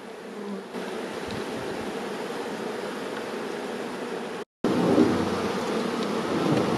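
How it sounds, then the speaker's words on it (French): Honeybees fanning at a hive entrance after a swarm was collected from a roof make a steady, close droning buzz that continues unbroken apart from a brief cut near the middle. "les abeilles se sont mis à battre leur appel"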